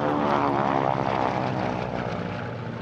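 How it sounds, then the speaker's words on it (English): A 1936 Lockheed L-12 Electra Junior propeller plane flies past at a warbird airshow, a loud, steady, throbbing piston-engine drone with a rich harmonic buzz, close and fading slightly toward the end. "First up, the L-12 Electra Junior, which first flew in"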